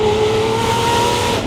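A straight-piped Lamborghini SVJ roars loudly nearby, its exhaust holding a sustained, droning engine tone throughout the brief moment.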